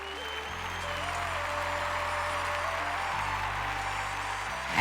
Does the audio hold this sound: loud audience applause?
yes